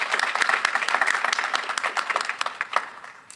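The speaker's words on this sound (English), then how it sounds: "let's give a round of applause to Willie" A round of applause at an employee recognition ceremony honoring a sanitation worker, many hands clapping in a brisk, slightly uneven patter that gradually thins and fades out.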